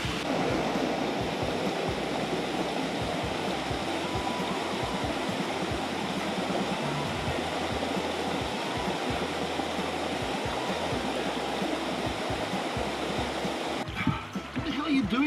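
Merja's Waterfall near Wellington, New Zealand roars steadily, a dense broadband rush of falling water that runs on without pause.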